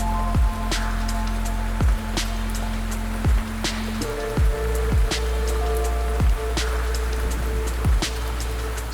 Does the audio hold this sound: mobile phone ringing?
no